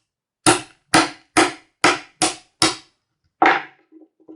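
A knife chops food into small portion pieces on a board in a village kitchen, six sharp evenly spaced thwacks followed by a pause, one more chop and a few faint light knocks, close and loud.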